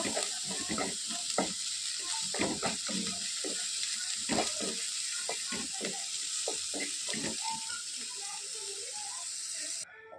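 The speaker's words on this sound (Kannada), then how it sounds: "ನೀರುಳ್ಳಿ ಫ್ರೈ ಆಗಬೇಕು." Onions frying in a pan for chicken sukka, a steady sizzling hiss with frequent scraping stirs and clinks of the spoon throughout, close and fairly loud, with no one talking.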